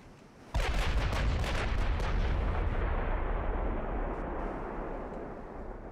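Big naval guns of 18.9-inch caliber fire in the Ultimate Admiral Dreadnoughts game, a sudden loud boom that erupts into a sustained rumbling roar of several overlapping blasts and then slowly fades.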